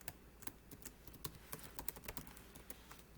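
Quick, light clicks of typing on a laptop keyboard, faint and close, in a rapid uneven patter with no talk over it.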